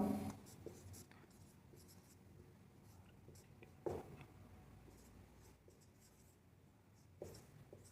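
A pen or chalk writes a number during a maths lesson. The soft scratching strokes are quiet and close, come in short bursts with pauses between them, and include a few louder taps.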